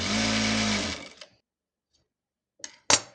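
A sewing machine stitches a lined churidar in a close, steady, buzzing run of about a second, then stops, followed by two brief clicks.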